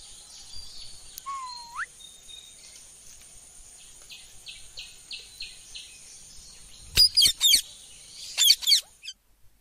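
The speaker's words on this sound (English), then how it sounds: "P for parrot." A parrot calls with bursts of harsh, raspy squawks, two clustered outbursts late on, close and fairly loud over a quiet background with faint chirps and buzzing insect-like tones.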